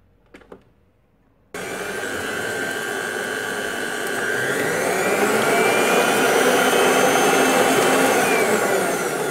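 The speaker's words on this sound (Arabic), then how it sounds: "صافي غادي نبدا نخلط الخليط ديالي دابا" An electric mixer beats eggs and sugar for sponge cake batter, starting abruptly after a brief quiet moment with a few light knocks, then running as a loud, steady whirring drone that grows slightly fuller over the following seconds.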